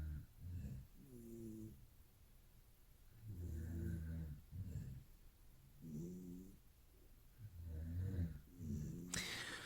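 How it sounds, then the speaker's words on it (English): In a quiet bedroom at night, a cat gives soft, snuffly snores while a man breathes heavily nearby. The faint, close sounds come in slow, regular bursts of inhale and exhale. "the snuffly little snores that you hear in the background"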